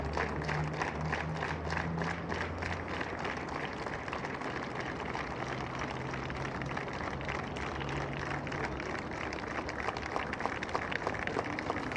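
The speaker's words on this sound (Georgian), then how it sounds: "საკუთარმა თანამშრომლებმა ირაკლი ალასანიას ტაში ბოლოჯერ დაუკრეს თავდაცვის სამინისტროში" Long, steady applause from defence ministry staff bidding farewell to Irakli Alasania, a dense crowd of clapping hands continuing evenly throughout with faint voices mixed in.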